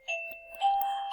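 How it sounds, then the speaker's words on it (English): A two-tone doorbell chime rings indoors, a single clear ding-dong with sustained ringing tones, moderately loud and heard alone. "And that was my doorbell."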